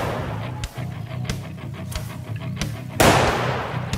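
Airsoft guns pop in a rapid, irregular string of close sharp shots during an indoor close-quarters drill, with a louder burst near the end.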